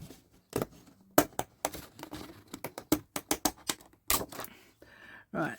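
Scissors snip through paper while cutting out decorative leaf shapes for a junk or art journal: a run of sharp, close, irregular cuts with brief pauses between bursts.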